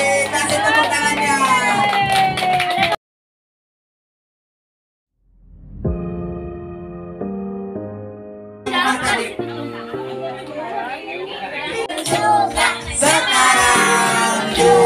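Children and adults at a kids' birthday party break into crowd noise, laughter and scattered clapping and cheering, following a stretch of chatter, a brief silence and a short run of musical tones.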